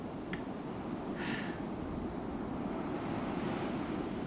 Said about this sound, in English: That's just like the sound of the ocean.